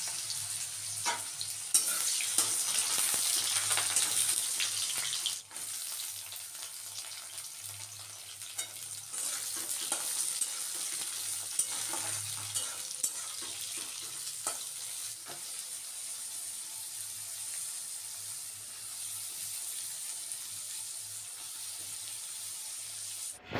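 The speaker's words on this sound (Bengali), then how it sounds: "এখন কাঁচা দেবো, সমস্ত সবজি ভাজবো।" Vegetables fry in a pan of tempered oil for moong dal, giving a steady sizzle with occasional stirring scrapes and clinks throughout, at a moderate level with no talking.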